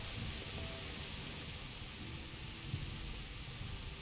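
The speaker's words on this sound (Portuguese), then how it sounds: "Tá uma chuva." Soft, steady rainfall in a video game, an even hiss that stays constant throughout with no voices over it.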